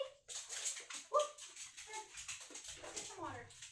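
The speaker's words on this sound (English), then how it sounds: "Sorry, guys. That was my dog." A pet dog whimpers and yips in a few high, short cries near a microphone, mixed with rustling and people talking softly.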